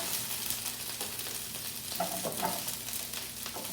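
Carrot pieces fry in the bottom of a pan for an Italian chicken dish, giving a steady, close crackling sizzle with a few small pops and stirring scrapes throughout.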